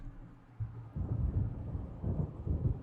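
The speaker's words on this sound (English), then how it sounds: "It seems there's a storm coming." Low rolling thunder from an approaching storm in the Alan Wake video game breaks in after a short quiet moment and rumbles on in heavy waves, with a faint patter like rain beneath it.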